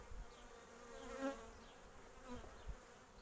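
Quiet, steady buzzing of many honeybees in an open hive close by, a low droning hum with a few louder swells as individual bees pass near.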